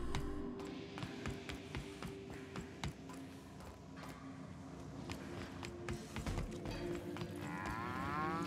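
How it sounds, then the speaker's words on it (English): Cows moo in The Outer Worlds, low calls running through a steady bed of ambient game noise with scattered ticking and tapping clicks. "What's up with the cows?"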